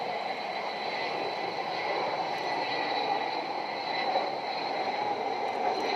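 Avro Vulcan XH558 bomber flying past at the 2010 Lowestoft air show: a steady, loud jet-engine roar with a droning tonal hum that holds constant throughout, with no voices.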